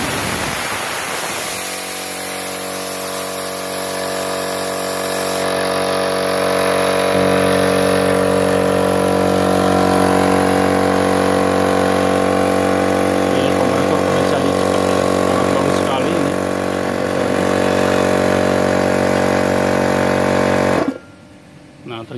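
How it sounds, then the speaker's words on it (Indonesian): An electric air compressor runs with a loud, steady motor drone for about twenty seconds, then cuts out abruptly when it overheats. The drone briefly returns right at the end. "Nah, terjadi mati seperti itu ya. Nah, tiba-tiba nih kompresor mati ya, kalau terjadi panas di motor ya"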